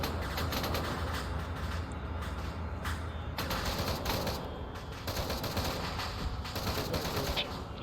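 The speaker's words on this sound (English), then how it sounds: "Devastator's firing on them now" Continuous heavy weapon fire from a Devastator in a video game, a loud, dense, unbroken barrage of rapid blasts with a mechanical rumble beneath, steady throughout without pause.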